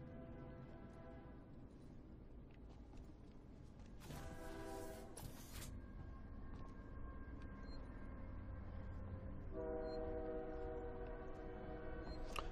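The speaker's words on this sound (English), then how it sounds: "train? I'm recording, and it feels like it has the right to butt in." A train rolls by outside a room, its horn sounding in long, steady blasts twice over a continuous low rumble of passing rail cars, fairly distant and muffled.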